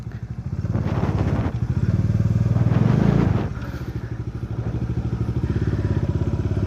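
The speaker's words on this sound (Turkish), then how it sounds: "bir sonraki dönüş için mesela kuvvetlice gaz verdim" A motorcycle engine revs hard and steadily under heavy throttle, loud and close, with a brief surge in the middle before settling back to a strong, even drone.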